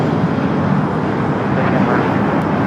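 An airplane touching down at LAX gives off a continuous loud broadband roar of engine and rushing air, steady and unbroken for a few seconds.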